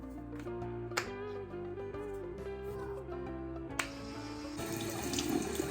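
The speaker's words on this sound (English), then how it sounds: "I just run water on it." Tap water pours over an exfoliating facial brush head in a sink, a steady rushing stream that swells louder toward the end beneath soft background music.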